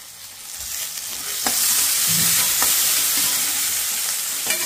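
Onion frying in hot oil in a pan for potato bhaji, a close, steady sizzle with scraping stirs and a few sharp crackles, growing slightly louder after the first second; no talking.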